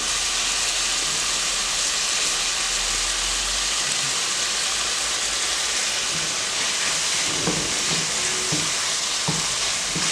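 Food for a Greek dish sautés loudly in a pan with seasoning cube added, a dense continuous sizzle and frying hiss, with stirring scrapes toward the end.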